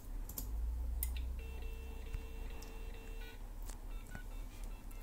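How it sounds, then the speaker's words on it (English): Telephone dialing tones as a number is keyed in to reach a modem: a few short beeps and one longer held tone over faint background hum and small clicks, quiet and close. "I will dial on this phone, and I'll dial it to this modem"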